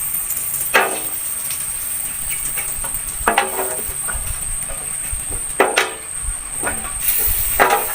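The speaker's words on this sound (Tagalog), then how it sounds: "Igisa tayo ng bawang, sibuyas at kataluya." Garlic, onion and ginger sautéing in hot oil give off a steady broadband sizzle, punctuated by several sharper crackling bursts as pieces hit or are stirred in the pan, with no talking.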